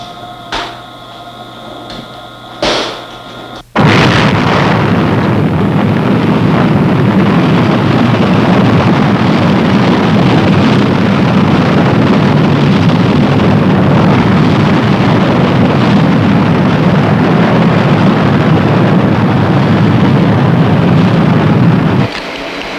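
A missile launches at Vandenberg after a few brief clicks and switch sounds; a sudden loud roar starts and holds steady as a broad rushing rumble for nearly twenty seconds, then cuts off.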